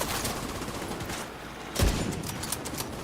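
A single sharp sniper rifle shot cracks out in a video game, loud and sudden against steady background game noise, followed by faint mechanical clicks.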